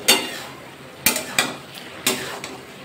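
A utensil stirs ash gourd curry in a pan, giving a series of sharp metallic knocks and scrapes, roughly five close, loud hits spaced about a second apart.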